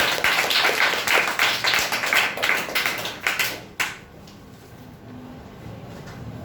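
A group of children and adults at a school public speaking competition applaud steadily for several seconds, then the clapping stops abruptly and leaves quiet room tone.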